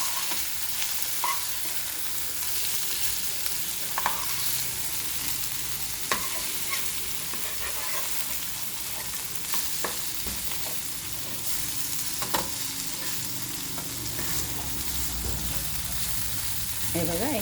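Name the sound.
prawns coated in rava shallow frying in a pan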